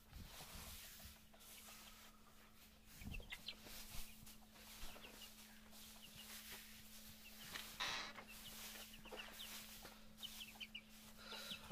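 Fayoumi and Tiger chickens cluck softly inside their coop, scattered faint clucks and calls at a distance over a low steady hum, with occasional rustling movement.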